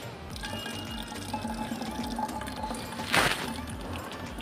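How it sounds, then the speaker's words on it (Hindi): Tap water runs into a bottle at a college building under construction, a steady close splashing stream with a brief louder gush near the end. "पानी भर लेते हैं यहाँ से पानी"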